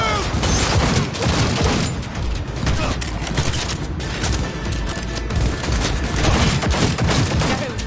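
Dense, rapid gunfire from a video game firefight, bursts of shots and booms overlapping continuously and loudly, with voices speaking over the shooting.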